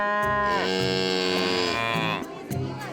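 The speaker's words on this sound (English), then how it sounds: "And why are there cows everywhere?" Several cows moo in a long, drawn-out call that lasts most of the moment, with harmonic lowing near at hand, set in a village of mud houses in India.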